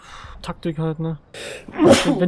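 A single sharp, close sneeze bursts out near the end, following a stretch of German conversation from a player during a multiplayer shooter match.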